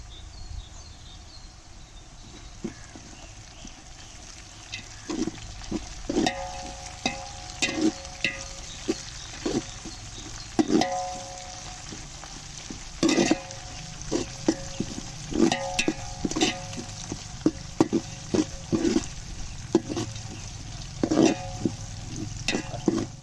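Mint leaves sautéing for mutton dum biryani, a soft steady frying hiss under repeated sharp clinks and scrapes of a spoon stirring against the pan, irregular metallic taps recurring throughout.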